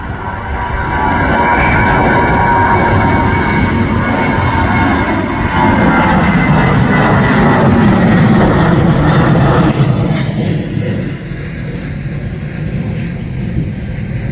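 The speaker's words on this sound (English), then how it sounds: "hopefully we get some big jets taking off soon" Big jet aircraft taking off at Schiphol Airport, heard from a nearby dike: a loud, continuous engine roar that holds steady for most of the time and eases slightly toward the end, with no talking.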